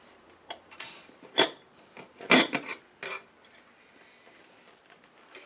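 A few sharp metallic clanks and clatters, followed by lighter scraping and tapping, as the lid of a cooled pressure cooker is handled and lifted off.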